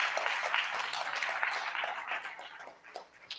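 Audience applause rises at a school ribbon cutting ceremony, a fairly quiet, steady patter of clapping from a modest crowd lasting a few seconds and fading slightly toward the end.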